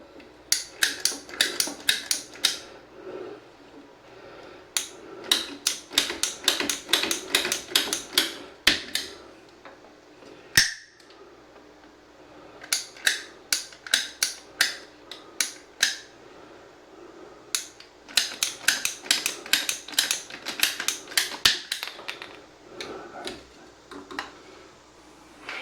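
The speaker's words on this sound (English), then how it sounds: "I'm going to cut this pipe." Pipe being cut with a hand tool on a farm, heard as bursts of quick, crisp clicking strokes in rapid runs separated by short pauses, close and fairly clear, without speech.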